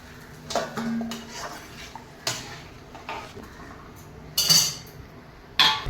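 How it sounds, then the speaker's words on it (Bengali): A lid is set on a cooking pot of mushroom and potato curry, giving a couple of sharp metallic clanks near the end, preceded by softer kitchen-utensil clatter close by. "এবারে একটু ঢাকা দিয়ে দেবো"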